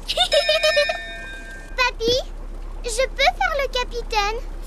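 A bell rings several times in a French Peppa Pig cartoon, sounding as a bright sustained chime at the start, before children's cartoon voices take over and talk through the rest.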